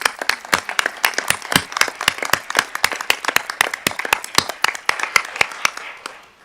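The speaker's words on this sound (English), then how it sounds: "Round of applause." A small group at a quarterly board meeting claps, distinct individual claps in a steady rhythm, fairly close and moderately loud, with no talking over it.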